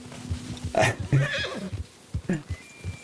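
A horse in Red Dead Redemption 2 whinnies loudly in a rising, shaky neigh, with a few hoof clops and soft snorts around it.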